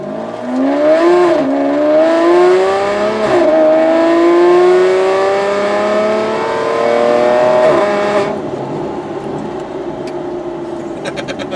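A car engine revs hard with rising and falling pitch for about eight seconds, then drops to a steadier idle. The car has had a catalytic converter ceramic ingestion problem fixed. The revving is loud, close and continuous, with no talk over it.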